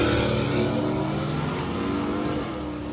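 A drag race car at Drag Week, a D-class car, roars down the strip with a loud sustained engine drone that eases slightly near the end, heard alone without talk.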